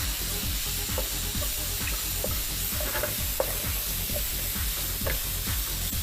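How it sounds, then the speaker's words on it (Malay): Sausage and other ingredients stir-fried in a hot pan for a birthday party dish, with a steady loud sizzle broken by repeated scraping and stirring strokes, and no voices. "Dan kita tumis."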